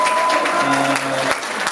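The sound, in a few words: audience applause at diploma ceremony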